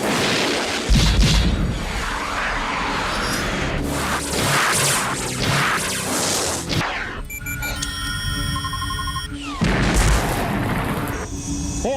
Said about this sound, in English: but Black Angel has a plan for that too, as he activates his radar jammer and destroys the SAMs.